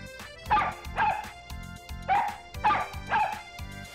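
An abandoned dog in an anime episode gives a series of short, loud barks and yips in uneven pairs, close by, with no talking.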